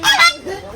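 One of a friendly pair of ducks honks in Mumbai's Dharavi slum, two loud, close, nasal calls one after the other.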